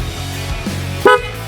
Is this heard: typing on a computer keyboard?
no